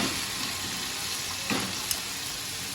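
Okra curry sizzles in a pot that is shaken rather than spoon-stirred, giving a dense, steady, close hiss with a couple of faint clinks, and no talk.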